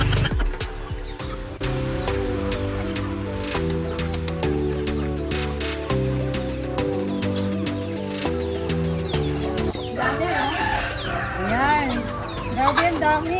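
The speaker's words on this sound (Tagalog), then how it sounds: "nagpapakain tayo ng mga native na manok" Free-range native chickens in a rural Ilocos Sur yard cluck and squawk as they are fed, mostly buried under loud music and only rising clearly near the end, with a voice mixed in.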